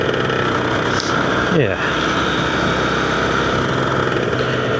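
A Yamaha TZR 250R two-stroke motorcycle idles close by with a steady, even engine drone, while a voice speaks briefly over it.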